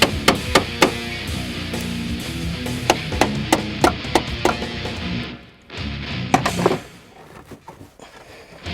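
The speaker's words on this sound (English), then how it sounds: "You have to use the hammer and a chisel to get it out." Hammer and chisel knocking out a seam-sealed B-pillar bracket on a 2005-2014 Ford Mustang during a roll bar install, a string of sharp, loud metallic strikes at uneven intervals over grinding scrapes, close up, without talk.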